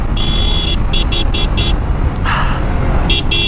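Traffic on a road heard from a Suzuki Gixxer SF motorcycle while another vehicle overtakes: constant loud engine and wind roar, broken by a series of short, sharp horn toots near the start and again near the end.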